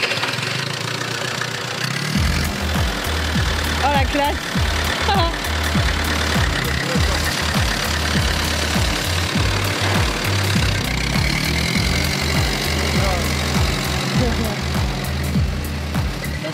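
A tractor engine idles with a steady low, knocking throb throughout, close by, while people talk briefly over it.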